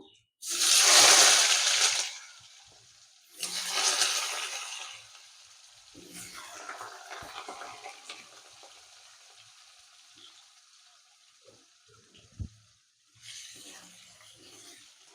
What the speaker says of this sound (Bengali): এখন এই তেলে দিয়ে একটু ভেজে নেব